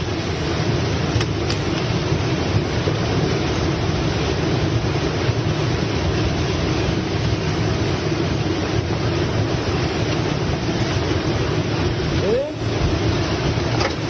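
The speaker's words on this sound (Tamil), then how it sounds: "கீழே உடஞ்சு பைப்பு போயிட்டு இருக்குடா. தண்ணி எங்கிருந்து போகுதுன்னு தெரியல." Water gushing from a broken pipe below ground, a steady loud rushing roar that fills the whole stretch with a brief dip near the end, with a voice faintly present under it.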